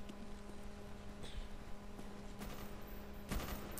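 Bursts of gunfire ring out in a Call of Duty style shooter match on the Hanoi map, with faint scattered shots over a constant low background hum and a couple of sharper volleys near the end.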